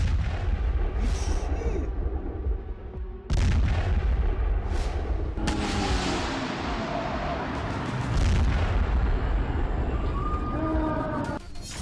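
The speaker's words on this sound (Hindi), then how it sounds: "मिसाइल और बम ईरान पर बरस रहे हैं" Missiles and bombs going off in the Israel–Iran war: repeated heavy blasts and booming artillery-like reports, with deep rumbling, crackling debris and faint distant voices between impacts.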